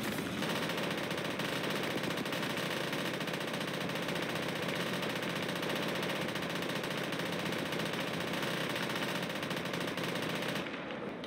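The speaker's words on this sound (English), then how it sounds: "keep firing, keep firing. Load those MGs quick." Sustained machine gun fire in the WWII game Gates of Hell: Ostfront, defending Voronezh, roaring loud and dense for about eleven seconds with overlapping bursts and battle noise, cutting off abruptly at the very end.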